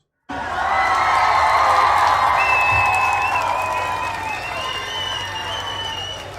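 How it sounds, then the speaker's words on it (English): Audience applause at a toast and talk event, loud sustained clapping with some cheering and whoops from a crowd that starts abruptly and slowly tapers. "Let's give COVID a round of applause."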